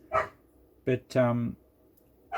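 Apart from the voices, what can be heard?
dog barking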